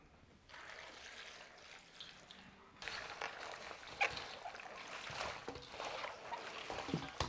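Salted water pours steadily into a jar of bok choy being fermented, a splashing, trickling rush that starts partway through and continues to the end, close by.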